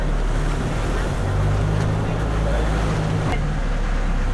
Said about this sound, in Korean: 파도가 장난이 아닙니다 오늘.